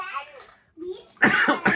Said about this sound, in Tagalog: may ubo pa nga ako